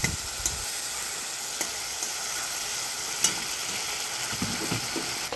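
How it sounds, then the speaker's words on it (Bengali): Grated tomato puree sautés in a pan, a steady close sizzle and hiss with occasional scrapes and taps of stirring, continuous throughout with no speech. "বড় সাইজের টমেটো গ্রেটারে ঘষে পিউরিটা বানানো হয়েছে ভালো করে এটা কষিয়ে নিতে হবে"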